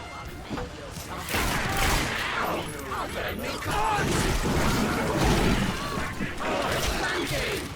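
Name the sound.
gunfire from the video game The Darkness 2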